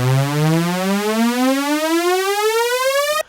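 Rising detuned sawtooth synth tone from the Dune 2 VST plugin, two slightly offset voices sweeping steadily upward in pitch for about three seconds, loud and buzzy, then cutting off abruptly.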